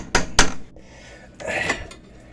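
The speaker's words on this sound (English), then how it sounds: "I put the lid on it" Metal pot lid clanks twice onto a pot of simmering watermelon rinds, two sharp close knocks followed by a softer rattling wiggle as it settles.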